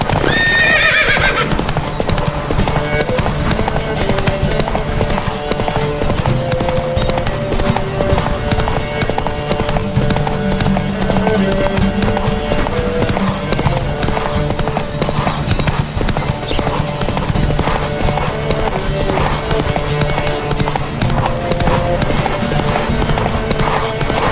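Rapid, continuous hoofbeats of galloping horses in a video game race in The Witcher 3: Wild Hunt pound throughout, with a horse whinnying near the start and music-like tones underneath.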